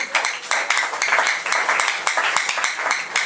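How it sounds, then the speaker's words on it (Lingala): Worshippers in a church clapping in rhythm during a praise service, a crowded, brisk patter of many hands, close and sustained, with faint voices mixed in. "Acclame plus fort pour la gloire du Seigneur."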